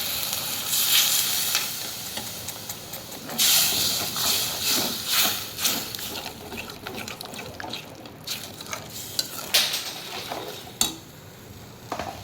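Water hits hot ground masala paste in a pan while cooking masvadi rassa, setting off loud hissing sizzle bursts that flare up and die down. Scattered stirring clinks and scrapes run through the steady fizz.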